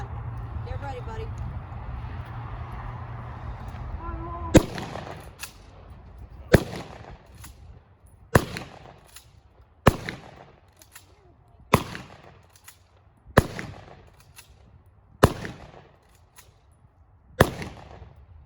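Military rifles fire in a demonstration at a history museum, eight sharp cracks spaced about two seconds apart, each loud, with a short echoing tail, after an opening stretch of steady low hum.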